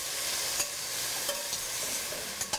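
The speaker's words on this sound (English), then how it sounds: "saute the onion first of all. We'll cook these onions until they are lightly golden." Onion sautes in oil or ghee for an eggplant curry, a dense steady sizzle heard up close, with a few soft stirring clicks and pops scattered through.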